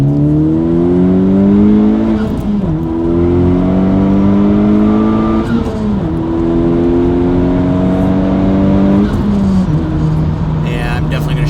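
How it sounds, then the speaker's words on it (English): A Honda Civic Type R fitted with an MBRP 3-inch triple rear exit cat-back exhaust revs loudly and climbs through the gears in repeated rising pulls, each ending in a brief dip at the shift. "Let's hear this with a little bit of RPM put to it."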